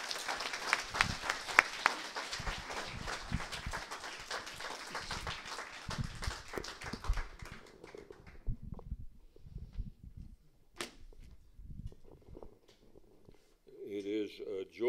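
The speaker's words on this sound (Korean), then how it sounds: "박수로 환영해 주시기 바랍니다." Applause from a church congregation welcoming a guest pastor, crisp clapping with some individual claps standing out, thinning out after about eight seconds, followed by scattered claps, quiet, and then a voice starting to speak.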